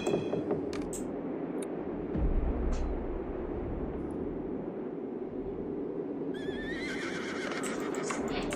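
Horses neigh and whinny among clip-clopping hooves in the real-time strategy game Battle Realms, a busy game soundscape with several high calls, some near and loud, and no talk.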